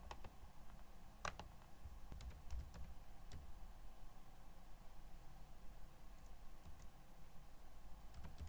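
Fingers tap on a computer keyboard in short, irregular bursts of sharp clicks, fairly faint over a quiet background hiss, with no voice.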